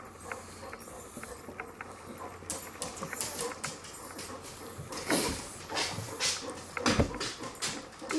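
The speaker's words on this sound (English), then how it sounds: "So that's why Roger barks, because he wants to see who it is." A dog gives a few scattered barks and snuffling sounds at moderate volume, with a louder burst near the end, over faint rustling and no talk.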